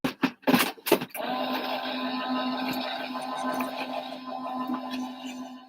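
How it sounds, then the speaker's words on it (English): A die cutting machine running a card aperture through its rollers: a few sharp clicks and knocks, then a steady mechanical whirring hum that continues evenly to the end, close and moderately loud. "I'm going to run that through the die cutting machine."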